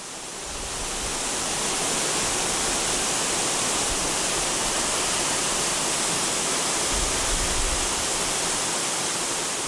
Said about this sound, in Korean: 소백산 중턱, 해발 700m 지점에서 만나는 희방폭포